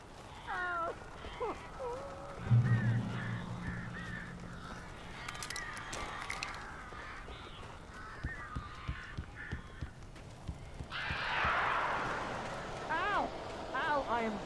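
Crows caw in the video game Alan Wake, harsh repeated calls mixed into eerie game sound with a low drone, and a spoken voice comes and goes.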